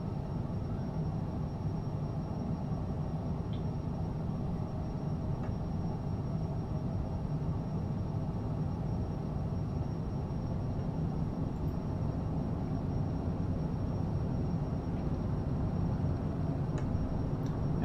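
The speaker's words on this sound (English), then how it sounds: "We're just going into advance the throttles," Cessna Citation CJ4 jet engines spooling to takeoff throttle in a flight simulator, a steady, dense low roar that holds evenly loud throughout with no talk over it.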